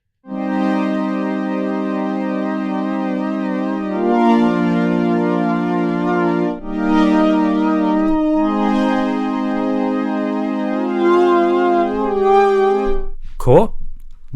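A synthesizer string pad built in Serum sustains smooth, warm chords that glide from one to the next over about fourteen seconds, loud and steady, ending with a brief sharp click.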